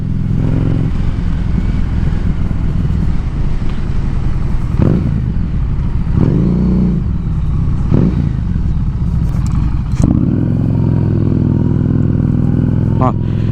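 A Harley-Davidson Street 750 rumbles loudly and steadily at close range, with its engine and exhaust blipping through several short revs over the idle while people talk.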